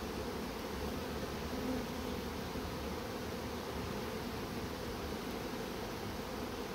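Honey bees buzzing at a beehive full of honey, a dense continuous hum of many insects, steady and even throughout with no voices.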